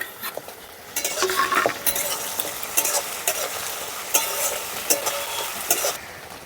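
Ginger-garlic paste and two whole garlic cloves fry with browned onion in a pan for chicken liver and gizzard, with a loud steady sizzle and repeated scraping stirs from a utensil against the pan.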